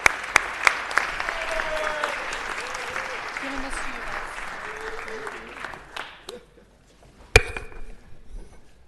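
Applause from a city council meeting audience honoring an honoree, a broad steady clatter of clapping that fades out after about six seconds, followed by a few isolated claps and thumps while a person speaks briefly.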